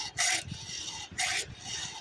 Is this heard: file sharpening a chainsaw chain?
yes